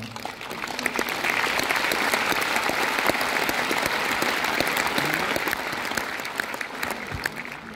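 A crowd applauds at a Mawlid gathering in Moscow, a dense, sustained burst of clapping that swells quickly and continues evenly before tapering slightly at the end.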